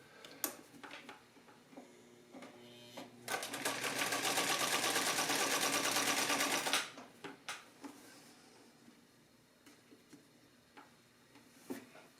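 A Singer 319W sewing machine runs in one sustained burst of rapid, even stitching for a few seconds, with scattered clicks and handling knocks before and after.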